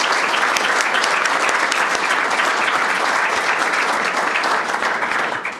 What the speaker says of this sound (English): Let's give them one round of applause finally